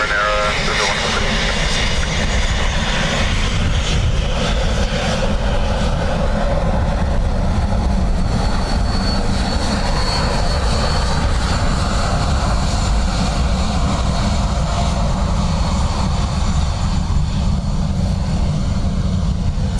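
An airliner lands on runway 28 left at Dublin Airport on a windy day, its engines a steady, loud, sustained roar with broadband wind rush throughout.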